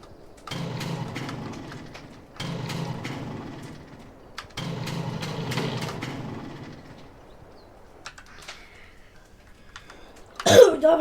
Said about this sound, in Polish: mój motor się dusi.